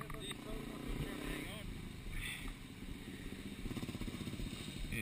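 A motorcycle engine labours in too low a gear, its throttle blips sounding as uneven pulsing revs beneath people talking, fairly faint and mixed with some clatter.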